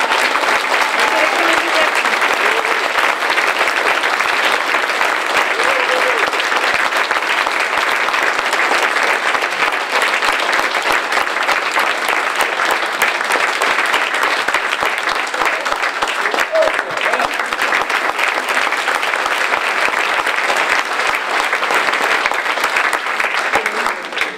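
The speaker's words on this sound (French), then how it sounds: "Je vais vous demander d'accueillir sous un tonnerre d'applaudissements votre député et le candidat" Audience at a French political meeting breaking into thunderous applause to welcome their deputy and candidate, a loud, sustained, dense clapping that continues steadily without pause.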